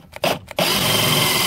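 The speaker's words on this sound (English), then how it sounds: "start drilling the hole right here with my handy dandy Black & Decker 20-volt drill" A Black & Decker 20-volt cordless drill is tapped twice in short bursts, then runs up to a loud, steady whir that holds to the end, close by with no talk.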